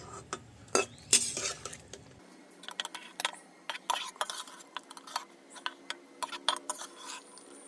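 Boiled jackfruit being tipped and drained from a cooking pot, with scattered clinks and scrapes of metal against the pot and a brief wet pour early on, then quieter intermittent taps and knocks.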